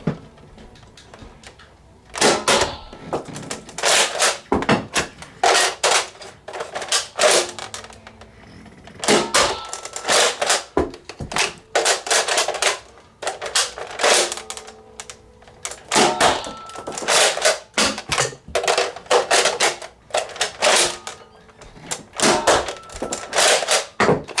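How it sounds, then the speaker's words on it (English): Nerf N-Strike shotgun-style blaster worked by hand: repeated plastic clacks and thunks as the chamber is cocked open, a slug loaded and the slide pushed forward, in bursts of sharp mechanical clicks with short pauses between. "Chamber opens. Load the slug. Slide it forward. Let's get a shot."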